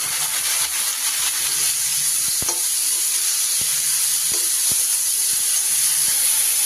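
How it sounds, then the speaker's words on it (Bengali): Radish pieces hit a hot pan with grated ginger and sizzle steadily and loudly up close, with a few sharp clinks from stirring. "এবার আমি মুলোগুলো দিয়ে দিই মুলোটা দিয়ে দিই"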